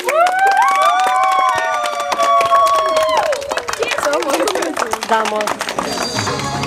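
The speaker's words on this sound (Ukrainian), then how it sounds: "И аплодисменты еще раз." Audience applause at an orienteering competition award ceremony, with tonal voices at first, then a burst of crowd clapping that builds into a busy patter mixed with murmuring speech.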